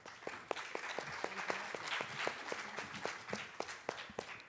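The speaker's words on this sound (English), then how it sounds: "Give them a round of applause." Audience applause for a panel at an education conference: steady, moderately dense clapping from a mid-sized crowd, somewhat distant and fairly quiet, holding evenly throughout.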